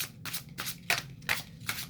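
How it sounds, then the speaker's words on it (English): Tarot cards shuffled by hand during a love reading, a few soft, quick riffling bursts repeating at a steady rhythm, quiet and close with no talking. "Apparently, I have quite a bit of shuffling to do right now."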